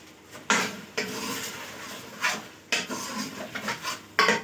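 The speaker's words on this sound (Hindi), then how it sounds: "हल्का सा मिक्स करके।" Utensil scraping and clinking against a pan while chicken ginger is stirred and fried in ghee, in a series of short, close scrapes and knocks with quiet gaps between.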